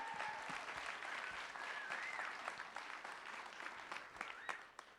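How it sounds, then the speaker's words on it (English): Audience applause for ten contestants at a live event, FF10 Live 2019: steady dense clapping from a large crowd lasting throughout, with a few faint whistles or cheers rising above it. "Can we have a round of applause for all 10?"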